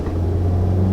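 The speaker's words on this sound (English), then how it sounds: "When I hit the accelerator really hard, so let's try." 2019 Hyundai Elantra with a six-speed automatic under hard acceleration, a steady low engine drone with a strong sustained hum, heard from inside the cabin for a brief second with no talking.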